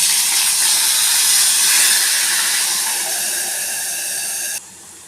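Grated tomatoes, ginger and green chilies poured into hot oil with crackled mustard seeds and cumin for a Ratlami sev tomato curry, producing a loud, steady hiss that eases slightly before cutting off abruptly.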